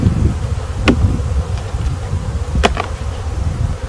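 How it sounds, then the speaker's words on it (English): Honeybees buzzing in a steady, dense drone close by, with a couple of brief sharper ticks over the continuous hum. "I just dumped a half a cup of bees in here."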